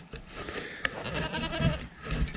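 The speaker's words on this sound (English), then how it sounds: "we're down to one big male goat" Goats on a farm, including a big male Nubian, bleat amid rustling and shuffling barnyard noise, the calls moderately close and partly muddled by background activity.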